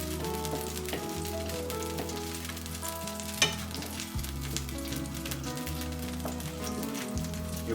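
Butter heating in a pan ahead of salmon gives off a steady, moderate sizzle that runs beneath prominent background music, with one sharp clack midway.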